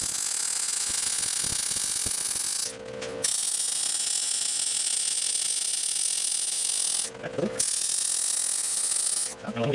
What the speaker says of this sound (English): I'm going to go ahead and weld this on